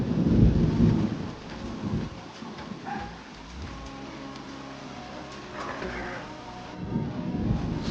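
Thunder and rain as a storm arrives, low rumbling thunder swelling and fading over a steady rain hiss, fairly loud and continuous, with no talking.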